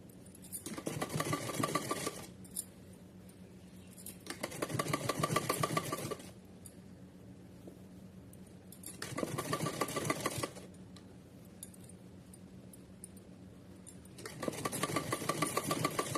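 A domestic sewing machine runs a straight stitch through doubled fabric while a costume for a Kanha idol is sewn at home, in four separate bursts of steady whirring with quieter pauses between them and no talking.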